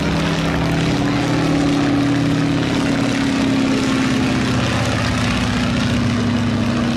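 A Boeing Stearman biplane drones steadily at an airshow in Scotland as its propeller and radial engine give off a loud continuous hum with a low buzzing pulse, close by and with no voices over it.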